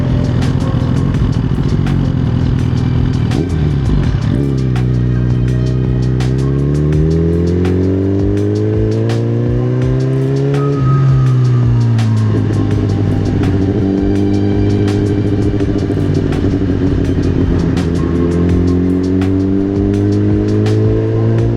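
A motorcycle engine revving while riding, loud and close throughout, the pitch rising and falling with repeated throttle sweeps and shifts.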